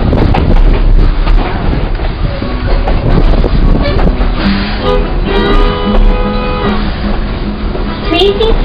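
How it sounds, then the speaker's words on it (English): Coal-fired steam locomotive pulling a tourist train around a mountain, heard as a loud, steady rolling rumble with wind buffeting the microphone and a sustained whistle-like tone midway. "our train is being pulled by an authentic coal-fired steam locomotive"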